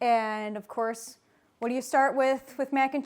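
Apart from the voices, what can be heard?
No distinct noise like a dog, phone or traffic.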